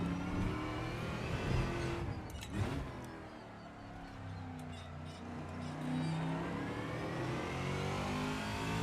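A V8 Trans Am TA2 race car in Assetto Corsa revs loud and near, dipping sharply around two to three seconds as it shifts, then climbing again in a sustained roar with brief speech over it.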